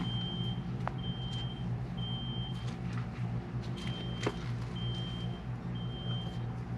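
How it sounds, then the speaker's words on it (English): A fire alarm sounds in a steady series of repeated electronic beeps, heard faintly over a low rumble of engine noise from a car or truck. "Alright, we got a fire alarm going off."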